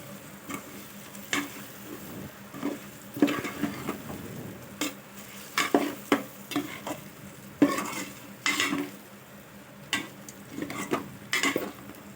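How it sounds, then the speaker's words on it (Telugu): Boiled eggs are stirred with masala in a cooking pan for egg biryani: a spoon scrapes and clinks in irregular bursts against the pan, close and alone, with faint sizzling between strokes. "ఈ గుడ్లకు మసాలా పట్టేటట్టు ఒకసారి బాగా కలిపేసుకుందాం మొత్తం"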